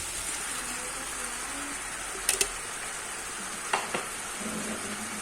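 Shrimp going into crab simmering in coconut milk, a soft steady bubbling sizzle with a couple of sharp clinks and light splashes near the middle, while a voice speaks faintly in the background.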